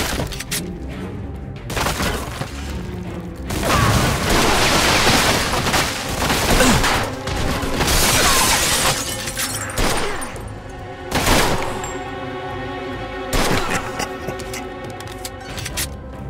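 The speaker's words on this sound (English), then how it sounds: "They're shooting from up top!" Dense, loud gunfire from shooters positioned above, in a Mafia 2 shootout: rapid overlapping bursts and cracks that roll on almost without pause, with brief dips between volleys.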